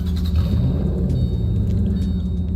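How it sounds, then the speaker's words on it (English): Low, steady rumble of a Ford GT engine idling after startup in the Roblox game Greenville Wisconsin, loud and close with a continuous throaty drone and no talk. "I'll just go over the startup one more time."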